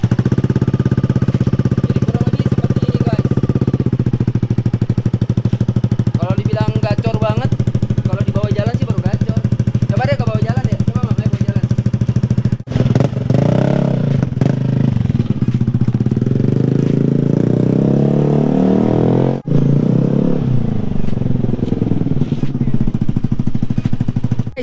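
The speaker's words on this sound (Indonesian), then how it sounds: "ini dia suara dari knalpot Vilan yang baru gua pasang" Motorcycle fitted with a new Vilan aftermarket exhaust, running with a steady loud engine drone throughout, with people talking over it in the first half.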